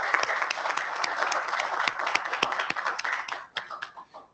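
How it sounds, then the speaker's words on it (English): An audience at the Dronavation 2024 conference applauds a speaker, a dense burst of many hands clapping at close range that thins into a few scattered claps and fades out. "let's give him a round of applause for being here"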